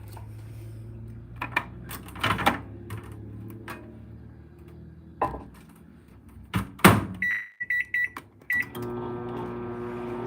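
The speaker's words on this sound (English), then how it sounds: "Cap it up and throw it in the microwave. Get it real hot." Microwave oven running while heating a drink, a steady low hum with clunks and thumps, then a run of short high electronic beeps near the end.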